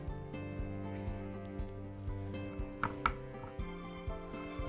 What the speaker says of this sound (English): we just want to mince this down really small. Get fine little pieces of onion in there.